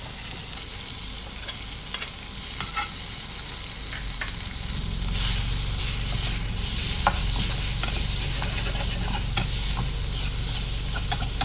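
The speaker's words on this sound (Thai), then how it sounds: "ผัดหมูสับให้เกือบเกือบสุกเลยนะฮะ" Minced pork stir-fried in a hot pan for Thai basil pork with tofu, a steady sizzle with scraping spatula strokes and clinks that thickens and grows louder midway, with no talking.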